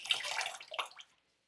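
Brief close splashy trickle of water being squeezed out of a shaving brush, two quick bursts then silence.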